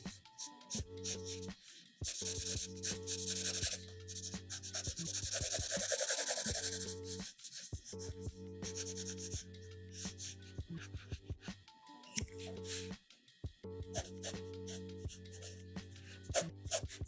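A graphite pencil shades dark tones on paper while sketching a head. Close, soft scratchy rubbing strokes come in repeated runs separated by brief pauses.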